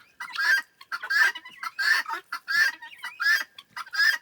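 Chickens clucking inside a coop, a steady run of six or so close, loud clucks in regular rhythm with short pauses between.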